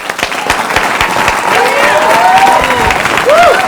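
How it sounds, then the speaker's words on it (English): A studio audience at a 1989 game show claps and cheers for a comedian, continuous loud applause with a few whistles rising over it. "please, ladies and gentlemen, a nice round of applause, Mr. Matt Graham."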